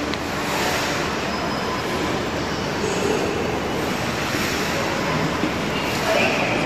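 A subway train in Daegu, South Korea rumbles in with a broad, steady roar and faint wheel squeal, echoing as if in an enclosed station.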